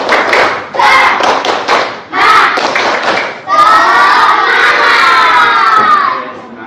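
Fifth-grade primary school pupils in a classroom perform a rhythmic spirit clap chant, loud bursts of unison shouting and clapping in short groups, then a longer sustained cheer with claps, close and energetic.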